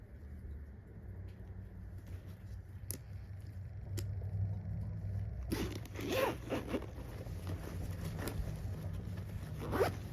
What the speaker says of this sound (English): If I can get the zipper to work here.